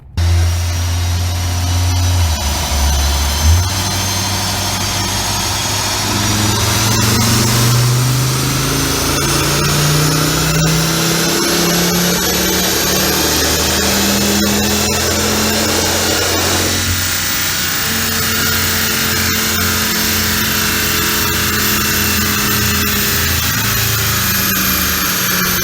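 A modified 2008 Volvo C30 engine runs close by, a loud, steady drone with pitch shifts as revs rise and fall, continuing without talk throughout.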